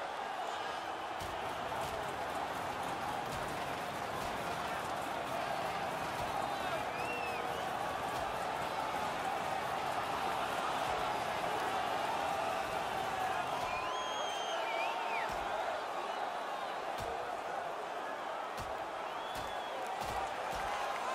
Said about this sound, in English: And the crowd on their feet